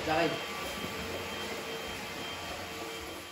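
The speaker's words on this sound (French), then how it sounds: "je passe l'aspirateur" A vacuum cleaner runs steadily nearby with a continuous loud whining roar throughout.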